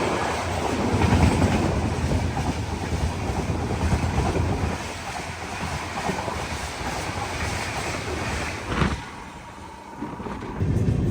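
The AP Sampark Kranti Express roars past close by on the line near Goa, a loud, dense rushing rumble with wind buffeting that eases briefly before surging again.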